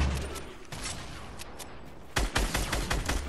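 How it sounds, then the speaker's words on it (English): Fortnite combat, with a rocket launcher and gunfire: a dense stretch of shots, then a louder burst of rapid sharp blasts near the end, close and intense. "I hit him with a rocket."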